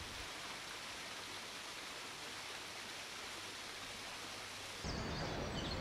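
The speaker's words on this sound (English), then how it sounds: "The marble fountain at the bottom of the garden," Constant soft rushing of a marble garden fountain splashing in Kensington Gardens, London, steady and fairly distant, with a slight change in texture near the end; no voices.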